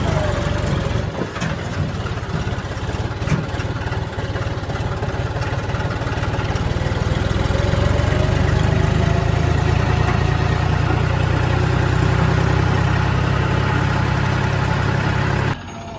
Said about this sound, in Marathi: बरं झालं ट्रॅक्टर चालू झाला